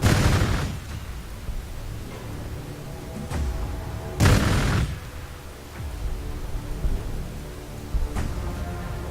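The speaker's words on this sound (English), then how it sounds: "Going to Throw grenades away! Throw grenades." Grenade blasts in a Warhammer 40K: Gladius battle, several deep booming explosions bursting at irregular intervals, each with a short rumbling decay over quieter game background.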